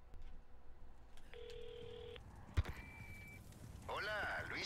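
A phone rings in the video game Resident Evil 4 Remake, sounding as a steady electronic tone that comes and goes, then a warbling ring near the end, under quiet game ambience with a sharp thud in between.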